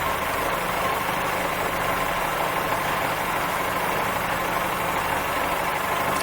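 A locomotive idles in Train Simulator 2016 on the Riviera Line, pulling three passenger cars: a steady, continuous low engine rumble with an even drone and no speech throughout.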